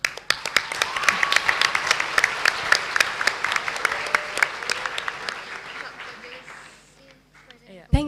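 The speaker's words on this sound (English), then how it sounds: "Give a round of applause." Conference delegates at a diplomatic course simulation give a round of applause, brisk sharp claps building and then thinning out and fading near the end.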